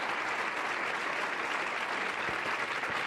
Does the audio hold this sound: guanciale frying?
no